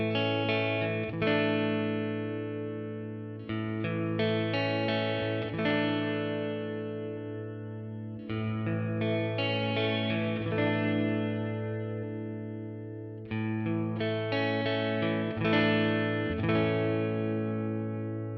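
An electric guitar played through the reverb setting of a Flatsons KMF-1 multi-effects unit: sustained chords ring out with a long, lush tail, strummed in slow phrases with gaps between them, close and clear.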